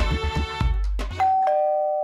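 A comedy-show doorbell rings with a sustained electronic tone, clear and up close, ringing on alone through the end after some musical bumps at the start.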